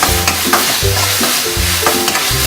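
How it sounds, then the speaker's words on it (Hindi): Onion and spice paste, seasoned with chili powder, salt and green chili, sizzles loudly in a pan while a spoon scrapes and stirs it in repeated strokes, close up with no talking. "प्याज और मसाले सब अच्छे से भून चुके हैं।"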